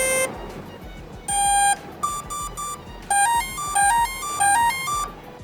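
A T-Motor AM600 ESC plays a sequence of loud electronic beeping tones through its motor during throttle calibration, with sustained pitched notes followed by short stepped melodic beeps, alone and close.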